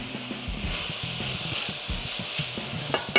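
Chopped carrot, onion and celery sizzle steadily in a hot pan, a close, even frying hiss with soft low clatters as the vegetables are stirred and settle.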